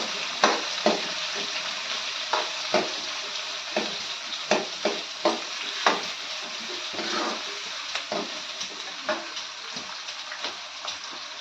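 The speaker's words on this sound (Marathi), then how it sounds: "कांदा चांगला गुलाबी होऊन त्याचा परतवून घेते" Chopped onion sautéing in a pan for dal khichdi, a steady close sizzle broken by regular scraping stirs of a utensil, with no voices.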